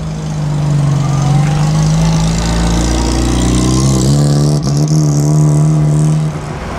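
A classic Siata car's engine runs loud and close at the Mille Miglia, holding a steady rumbling tone that shifts slightly in pitch midway before easing off at the end.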